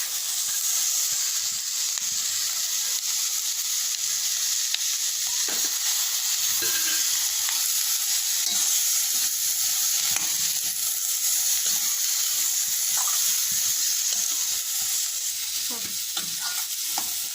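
Mint and coriander leaves sautéing in a pan, a loud continuous hiss and sizzle with occasional faint stirring knocks, close up, no voices.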